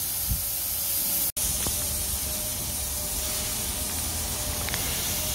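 Compressed air rushes through an in-ground lawn sprinkler zone during a blowout, a steady loud spraying hiss that holds throughout with one brief dropout.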